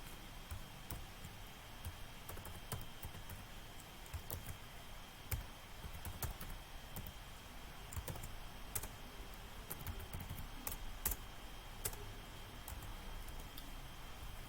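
Steady computer keyboard typing as Python object-oriented code is entered, a continuous run of close, even key clicks with occasional sharper taps, heard alone with no talking.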